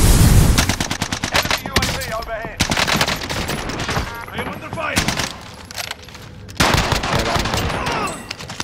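C58 rifle fire in Call of Duty: Warzone, fitted with a bruiser grip, 50-round magazine and Raider stock, rattles out in rapid full-auto bursts of loud, close cracks, separated by brief pauses.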